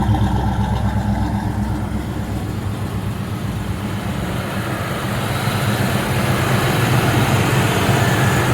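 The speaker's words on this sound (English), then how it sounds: "Engine sounds good, doesn't it? The exhaust has a nice note." A factory yellow 1993 Ford Mustang convertible idles steadily nearby, its exhaust giving a continuous low rumbling note with no talk over it.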